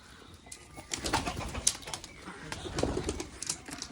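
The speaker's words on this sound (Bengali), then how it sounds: "পায়রাগুলোকে নিচে খাবার দিয়ে দিলাম, পায়রাগুলো খাচ্ছে।" Pigeons coo and peck at food scattered on the ground nearby, giving soft scattered taps, rustles and a few wing flutters at low volume.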